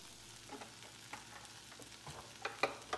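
Ramen noodles being stirred in a pan with melted butter, soft scraping stir strokes and light sizzling crackles, faint and close, growing a little busier toward the end.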